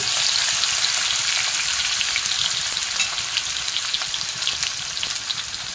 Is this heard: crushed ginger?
yes